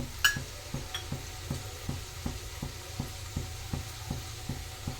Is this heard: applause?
no